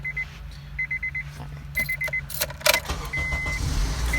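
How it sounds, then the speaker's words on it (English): A 2007–2011 Honda CR-V is started: rhythmic warning beeps and jangling keys come first, then the engine cranks with a sharp burst and settles into a steady, close idle. "so now we're going to go ahead and start the car"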